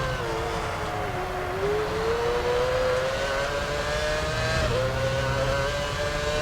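Formula 1 car engine in the F1 Championship Edition video game, a steady high whine with smooth pitch shifts as it holds speed, continuous and fairly loud throughout with no talking.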